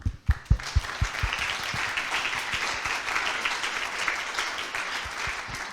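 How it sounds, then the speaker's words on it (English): Applause breaks out at a coding bootcamp demo day, starting with a few scattered loud claps and swelling into steady, sustained clapping from the audience that carries on at even strength. "I want to hear lots of applause."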